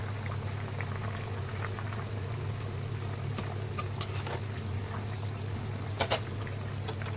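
A fish curry with katla and pumpkin stalks boils in a pot, giving a steady low bubbling and simmering hiss that stays close and even, with a couple of faint clinks near the end and no talk.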